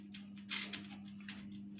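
Mechanical timer ticking on an OTG oven: faint, steady, evenly spaced ticks close by, over a constant low electrical hum, with no talking.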